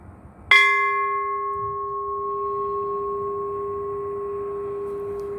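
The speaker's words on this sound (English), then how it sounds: "ring bell for service" A single bright ding from a service bell, struck once and left to ring out with a long, steady, slowly fading tone.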